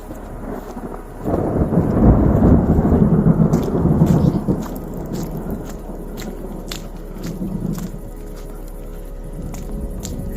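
A summer thunderstorm with distant thunder rolling as a loud low rumble that swells and fades, while rain patters steadily and drips tick sharply throughout.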